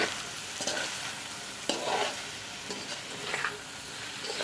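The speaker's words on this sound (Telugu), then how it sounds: "సో ఆ రొయ్యలన్నీ ఇందులో వేయండి. అన్నీ వేసుకొని బాగా కలపండి." Fried prawns being stirred into a brinjal curry in a pan: steady oily sizzling with intermittent spoon scrapes and clinks, moderately close.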